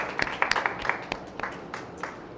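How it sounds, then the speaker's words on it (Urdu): A church congregation at a Hindi-Urdu Bible teaching claps in praise: sharp, uneven claps from several people, busiest early on and thinning out toward the end, close and fairly loud with no talking. "خداوند کی پریزنس کے لیے زوردار تالیاں۔"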